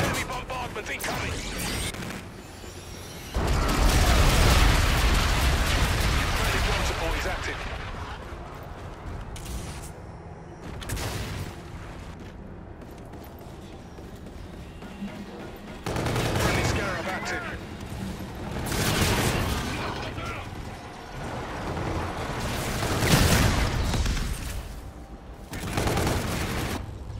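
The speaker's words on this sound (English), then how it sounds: "Enemy bombardment incoming!" Heavy bombardment explosions and bursts of gunfire fill a Call of Duty: Infinite Warfare battle, with loud booming blasts and rattling shots coming in waves amid constant combat noise, close and dense.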